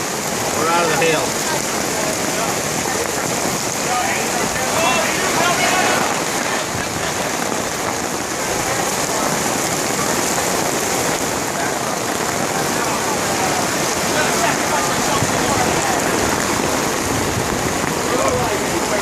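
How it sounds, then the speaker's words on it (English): Steady rain falls at a fairground just after a hailstorm, a dense continuous hiss of drops on surfaces filling the whole stretch, with faint voices in the background. "Now it's starting to rain."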